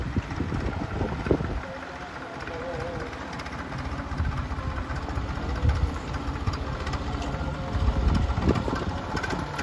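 A tractor engine runs steadily nearby, a low rumbling idle mixed with wind buffeting the microphone throughout.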